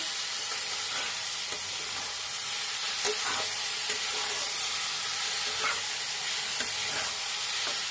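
Spice paste with cumin powder, tomato and eggplant frying in oil in a pan for a Bengali pabda fish curry, a steady close sizzle with occasional stirring scrapes and small pops throughout.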